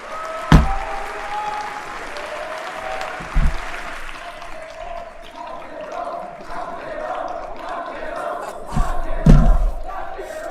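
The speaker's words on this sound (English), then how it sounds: "You just heard the crowd right there chanting his name." Tournament crowd at a Street Fighter 6 event in the UK roars, cheers and chants a player's name, with sustained rhythmic crowd noise and a few louder bursts of applause and shouting.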